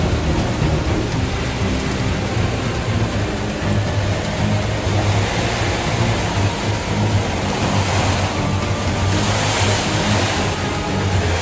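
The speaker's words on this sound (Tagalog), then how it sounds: "Pasok na yung tubig talaga, guys." Heavy typhoon floodwater and surging waves roar steadily and loudly throughout, with a dense, storm-like wash and no voices.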